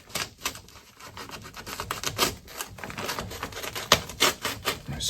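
Flex duct is cut by hand in a series of quick, close crackling snips and rustles, an irregular patter of sharp bursts over several seconds with no voices.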